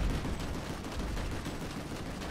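Sustained gunfire from a PlanetSide 2 battle, a dense, continuous roar of shots and engine rumble filling the whole stretch with steady loudness and no talk.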